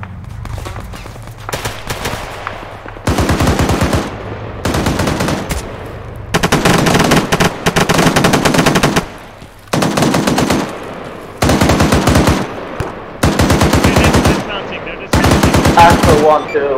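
Machine guns in a military video game fire long, loud automatic bursts in repeated volleys, separated by short pauses, with voices talking faintly underneath.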